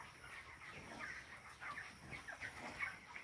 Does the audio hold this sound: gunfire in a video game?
no